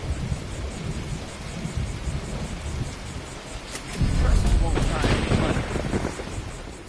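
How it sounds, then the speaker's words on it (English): A rain machine in Fallout 76 produces steady rainfall hiss, then a deep rolling thunder rumble swells about midway and slowly fades back into the rain. "This is the thing that makes it rain and have thunderstorm."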